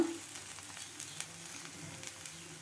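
Masala dosa batter sizzling and frying on a hot pan as chopped onion is scattered over it, a steady soft crackle with faint scrapes, no voices.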